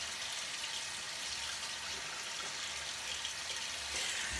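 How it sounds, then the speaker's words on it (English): Tap water running steadily into a bathroom sink in the morning, a continuous soft hiss and splash, close and fairly quiet with no talk. "So turn my water on,"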